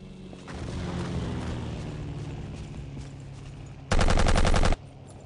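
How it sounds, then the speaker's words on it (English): German assault weapon firing in the video game Battlefield 1942, a rapid automatic burst standing out loudly over constant background battle noise and distant gunfire. "I picked up the German version of the assault troops weapon."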